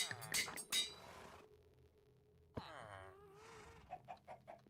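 Chickens cluck in Minecraft: a few short clucks near the start, a pause, then a brief squawk and a run of soft, quick clucks at the end, with no talk over them.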